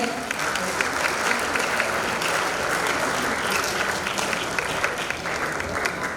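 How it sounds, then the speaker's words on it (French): Audience at a 60th birthday celebration applauds loudly and continuously, dense clapping from a large crowd filling the room. "Est-ce que vous pouvez encore acclamer pour vous-même?"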